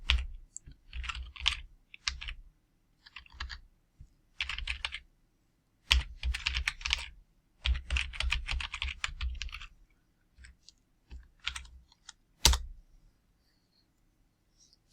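Bursts of typing on a computer keyboard, entering SQL data, with irregular clusters of key clicks separated by short pauses and one sharper keystroke near the end, close and clear with no talk.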